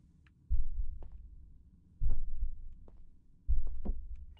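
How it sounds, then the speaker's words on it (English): Heartbeat in a cozy horror video game set in a boba shop: three slow, heavy thumps spaced evenly about a second and a half apart, each with a deep throbbing tail, with a few faint, small game blips between them. "You thought you were going crazy because of heartbeat sound?"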